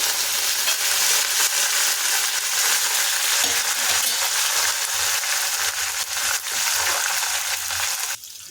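Steady loud sizzling as curry leaves and coriander hit a hot pan of oil with browned cashews and peanuts for avalakki, continuous crackle with a few faint clinks and stirring sounds.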